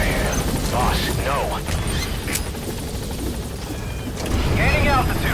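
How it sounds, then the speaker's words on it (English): An extraction helicopter in the video game Metal Gear Solid V gives off a steady rotor drone beneath voices and radio chatter, with sharp clanks and bursts mixed in and the noise swelling toward the end. "I'll send the extraction chopper."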